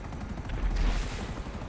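Gunfire during a GTA casino heist getaway: a rapid burst of shots and blasts swells mid-way over a steady rhythmic helicopter rotor chop, loud and close throughout.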